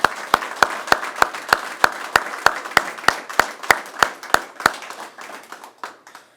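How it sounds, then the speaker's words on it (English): Audience applause at a police chief's award ceremony, heard as a small group's sharp, distinct hand claps landing in a fairly regular rhythm and thinning out toward the end, with no talk. "join me in giving Chief Whelan a round of applause"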